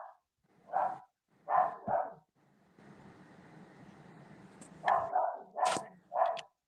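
A dog barks in sharp, repeated bursts: a few spaced barks, a lull with a low steady hum, then another rapid cluster of loud barks close by.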